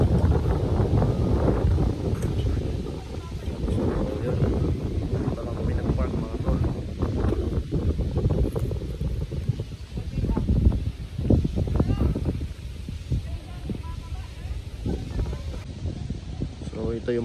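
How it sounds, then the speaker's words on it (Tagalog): Steady, heavy wind roars and buffets the microphone throughout at an open picnic grove beside corn fields, with rustling in the background and no clear voices. "Ang lakas ng hangin."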